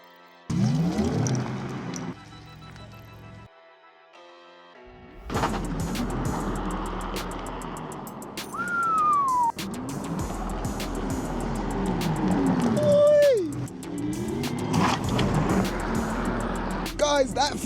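A 2024 Porsche Taycan Turbo S accelerates hard, a rising electric whine sweeping upward over rushing road and wind noise after a quiet start, with people talking and exclaiming over it.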